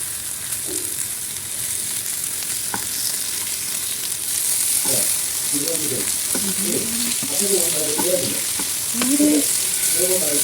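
Fish fries in hot oil with curry leaves, giving a loud, continuous sizzle with occasional bubbling and utensil sounds close by.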